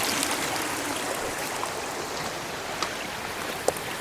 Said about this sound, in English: there's a creek running down the trail here